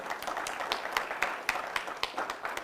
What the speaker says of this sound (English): Give Elena a round of applause, everybody